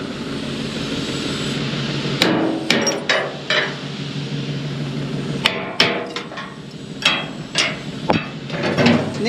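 Irregular metal hammer strikes ring out over a steady engine drone during sacrificial animal slaughtering, some single blows and some quick clusters, fairly close and loud.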